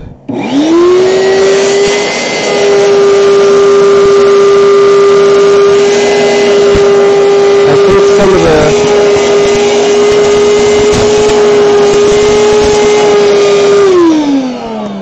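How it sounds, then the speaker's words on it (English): A shop vacuum sucks up sawdust beside a Shaper handheld CNC router, its motor whining up to a loud steady drone that holds for over ten seconds, briefly wavers midway as debris is drawn in, then spins down at the end. "so I'm just going to vacuum up the sawdust."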